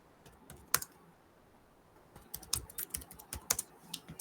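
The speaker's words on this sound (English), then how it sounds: "Say I'm typing something like this, like quantum computing application." Someone types on a computer keyboard while writing in a Google Doc. Sparse isolated keystrokes come first, followed by a quicker run of clicky taps, close and fairly quiet.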